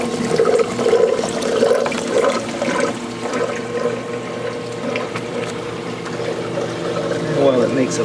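Water from the filter of a 400-gallon bowfront aquarium splashes steadily into the sump below, a continuous trickling and gurgling wash heard under a voice.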